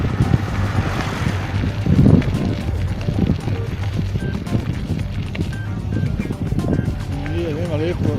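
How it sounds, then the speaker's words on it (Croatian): Cold wind buffets the microphone while riding a motorbike, a steady loud rushing roar throughout, with a person speaking over it. "ušao hladan vjetar"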